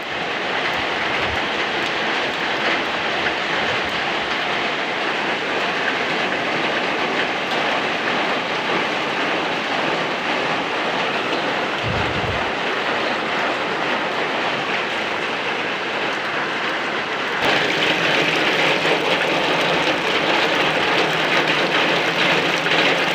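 Continuous heavy summer rain roars evenly for the whole stretch, briefly louder near the end, with a few low thumps underneath and no speech.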